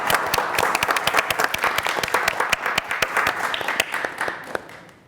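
Applause at an arts council meeting, a room full of people clapping with distinct individual hand claps audible in the mix, steady and then thinning out toward the end.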